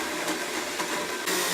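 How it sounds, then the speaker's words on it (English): Kitchen blender whirring through oranges and apple, a loud, dense, steady motor roar heard close for a brief moment. "And then we can just start the blender."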